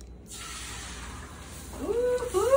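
Food hissing as it is dumped into a hot pan while cooking Spanish tapas, a steady close sizzle that rises toward the end, with a brief voice-like sound near the finish.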